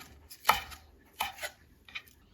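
Mint and basil leaves are roughly chopped with a knife on a board, a few soft, sparse taps spaced irregularly, quiet and close with no talk.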